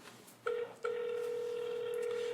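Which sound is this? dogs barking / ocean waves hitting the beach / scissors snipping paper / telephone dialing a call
telephone dialing a call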